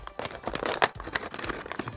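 Plastic toy packaging is cut open with a Swiss Army knife, giving brief crinkling and tearing bursts of stiff plastic, close and fairly quiet, with no voices.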